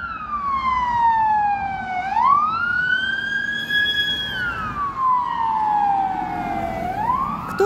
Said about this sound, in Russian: Что там скорая едет.